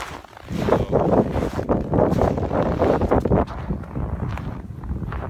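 Wind on a forest hike: a steady, loud buffeting rush against the microphone, gusting unevenly for several seconds with no voices.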